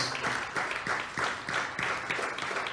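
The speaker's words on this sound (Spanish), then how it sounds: "Dale un aplauso al Señor" A church congregation claps in unison, a steady rhythmic beat of about three claps per second, moderately distant and sustained for nearly three seconds.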